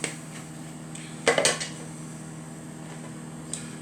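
A mixing bowl is picked up and set down in a home kitchen, giving a short cluster of clattering knocks about a third of the way in, otherwise quiet with a faint hum.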